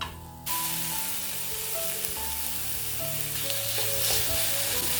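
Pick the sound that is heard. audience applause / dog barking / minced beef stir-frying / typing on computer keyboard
minced beef stir-frying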